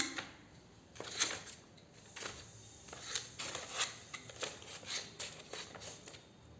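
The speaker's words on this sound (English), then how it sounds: "cutting the paper." Scissors cut through paper in a craft activity, a run of quiet, close snips and crisp rustles at an uneven pace, with no voice over them.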